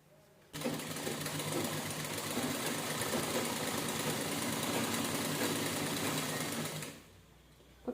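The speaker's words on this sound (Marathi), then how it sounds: "आता आपण" A sewing machine stitches a blouse lining in one steady, close, loud run of about six seconds, with a quieter lull before it starts and after it stops.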